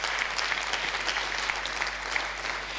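Steady applause from a church congregation during a sermon, dense and continuous throughout, without a break.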